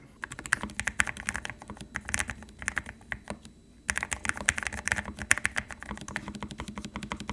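Fast, busy typing on a computer keyboard clatters in dense bursts of keystrokes with one short pause, close and fairly quiet.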